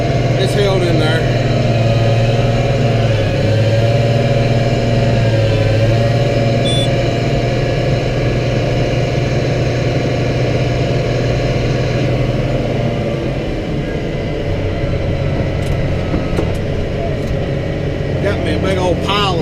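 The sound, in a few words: truck engine pushing snow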